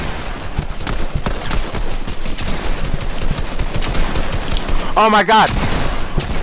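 Rapid gunfire from a Fortnite firefight, dense overlapping shots crackling continuously at close range with a brief voiced exclamation breaking through near the end.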